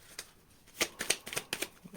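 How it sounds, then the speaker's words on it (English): A deck of cards is shuffled in a run of quick papery riffles and flutters, close and clear, with several distinct bursts and brief pauses between them. "Last shuffle."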